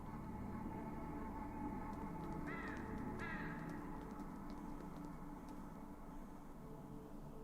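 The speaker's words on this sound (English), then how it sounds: "It's inhabited by dozens, if not hundreds of crows?" Crows caw in the Saint Kotar PC game, two short harsh calls at a distance over a constant low ambient rumble, faint and with no talk.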